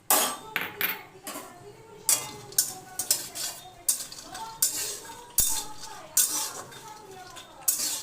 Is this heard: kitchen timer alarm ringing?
no